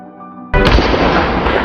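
Police shoot a man in a film, and a single loud, sudden gunshot bursts out after a quiet moment, then rings and fades into a long, noisy echo.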